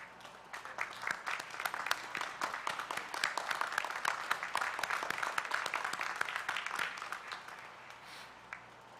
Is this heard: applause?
yes